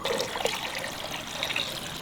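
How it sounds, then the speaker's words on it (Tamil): Water is poured into a cooking pot on a stove, about four litres, while making a chicken biryani; a steady trickling splash runs close by throughout, with no talking. "ஒரு பாத்திரத்தில் 4 லிட்டர் தண்ணி ஊற்றிக்கலாம்"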